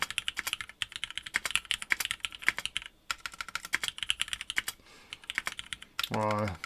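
Fast, continuous clacking of a mechanical keyboard fitted with light linear switches, many crisp close keystrokes in quick rhythm with a short pause, and a voice briefly speaking at the end.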